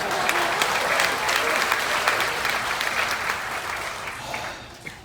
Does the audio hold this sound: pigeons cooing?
no